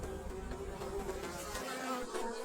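A dense, steady buzzing of more than 20,000 honeybees humming together at their hive, continuous and close, with no voices.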